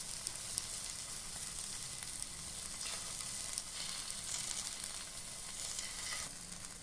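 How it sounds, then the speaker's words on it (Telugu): Beaten egg poured into capsicum rings for a ring omelette sizzles steadily in a hot pan, a close, continuous crackle with small bursts of spitting and no voices. "మనం ఎగ్ కలిపి పెట్టుకున్న దాన్ని అందులో కొద్దిగా పోసుకోవాలి"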